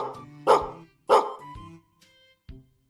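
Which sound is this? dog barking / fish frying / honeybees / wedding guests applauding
dog barking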